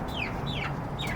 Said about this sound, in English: the hens will probably go right around him, eating as much of it as they can